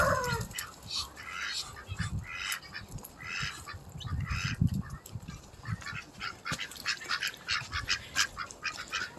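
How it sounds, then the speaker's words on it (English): Ducks quack repeatedly in a muddy farmyard during March mud season, with birdy calls scattered throughout at moderate distance amid steady outdoor background noise. "So quack quack ducks."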